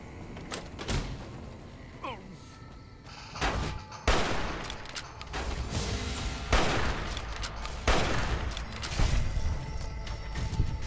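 Gunfire in the video game Fallout: New Vegas: sharp, loud shots crack out in scattered bursts and single blasts over a low rumbling background, with some mechanical clatter between the shots.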